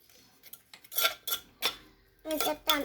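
A spoon clinks and scrapes against a mortar or bowl while som tam papaya salad is stirred, in a series of separate clattering strokes, fairly close and moderately loud, with no talking.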